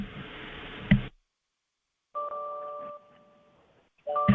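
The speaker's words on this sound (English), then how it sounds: "We're getting a bell." A bell rings during an open-mic call, sounding as a sustained tonal ring in two bursts separated by silence, fairly clear and close, with a brief sharp click near the start.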